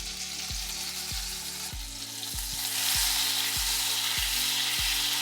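Butter and cooking oil heating in a hot pan, a steady hiss that grows louder partway through, with a regular series of low knocking thuds from a utensil, no one speaking.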